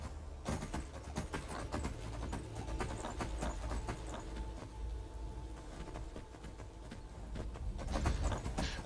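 A horse's hooves clip-clop steadily along a path in Skyrim, close and continuous at a trotting rhythm, with faint background game ambience and no talk.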